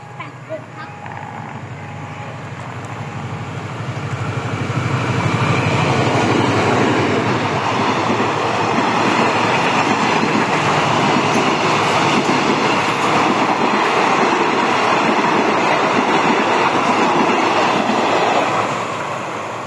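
A fast train passing close, a rising roar that swells after a few seconds into a sustained loud rush with clattering wheels, fading slightly at the end.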